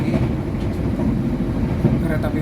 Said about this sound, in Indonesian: Kereta api Taksaka melintas langsung stasiun Cikarang dan berpapasan dengan kereta api Bangunkarta dari stasiun Pasar Senen